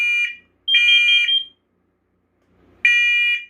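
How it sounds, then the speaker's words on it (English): A First Alert smoke alarm, an SC91 or SA520 unit with a weak piezo, sounds its carbon monoxide alert: three loud, shrill electronic beeps with short gaps and a longer pause before the last, heard up close with nothing else around. "That one's alarming in CO."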